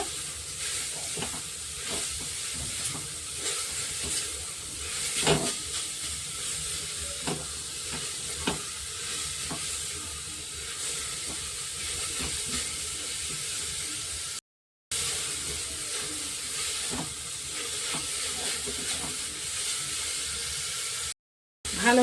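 Grated carrots being stirred and fried in ghee with spices for carrot laddu and halwa, giving a steady broadband sizzle with repeated scraping stir strokes throughout, close and fairly loud, no talking.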